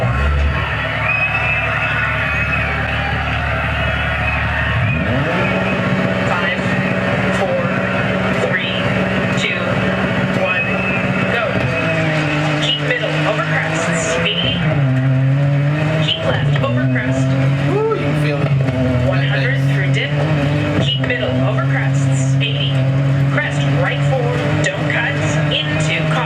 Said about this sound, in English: That's some racing there.